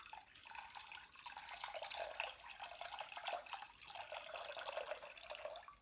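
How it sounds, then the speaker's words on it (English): Water trickles and splashes in a steady, soft stream, like someone urinating or a sink filling, continuous and fairly faint throughout. "Now, I think that sounds like someone going for a wee. It could also be someone filling up a sink."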